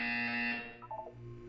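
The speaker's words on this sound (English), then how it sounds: "When you hear the buzzer, look up at the ceiling." A sustained electronic buzzer tone from the game Portal 2 rings loudly for about half a second, then fades into a few short chirping beeps with a low hum underneath.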